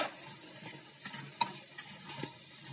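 Tomato, onion, turmeric and chili powder being stirred together in a pan, with soft scraping strokes and a faint sizzle, a few sharper clicks of the spoon against the pan, close and steady, no talking.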